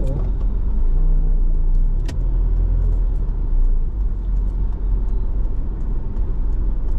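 Steady road traffic rumbles past in Bacolod City, with cars driving by close and a constant low engine drone, a sharp knock partway through and faint voices underneath.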